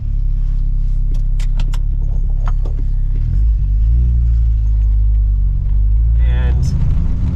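A 1983 Volkswagen GTI MK1 four-cylinder, 90 hp engine idles with a steady low rumble throughout, with a slight rise in tone partway and some clinking and voices in the background.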